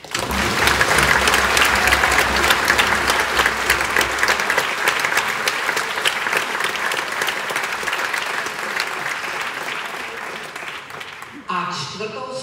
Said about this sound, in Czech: prosím mě, potlesk pro všechny